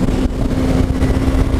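Steady, loud engine drone and wind rush from a 2015 Yamaha R3 motorcycle while riding, with a constant hum throughout the short stretch and no voices.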